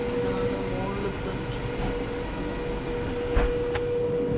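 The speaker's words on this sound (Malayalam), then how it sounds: "ഇതാണ് ഡബിൾ ഡെക്കർ ട്രെയിൻ." A steady rumble of rolling stock fills the space aboard a double-decker train in Nuremberg, Germany, with a constant tonal hum, a couple of clunks near the end and faint voices underneath.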